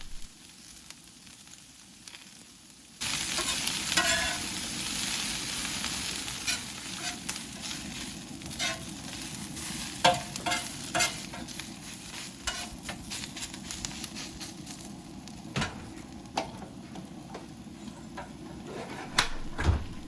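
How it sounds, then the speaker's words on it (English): Onions cooking on a hot griddle over high heat, starting with a steady sizzle that swells once they hit the surface, with scattered scraping and stirring clatters from a spatula throughout. "fire up the griddle in high heat to caramelize some onion"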